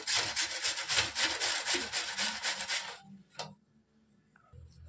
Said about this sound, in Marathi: तर हे किसून घेणार आहे।